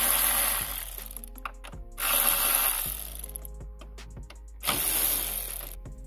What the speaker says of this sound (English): So what we're going to do is take them two off, 10 milli here and here. These two 10 milli nuts off.